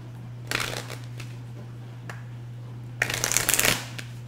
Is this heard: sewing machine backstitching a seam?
no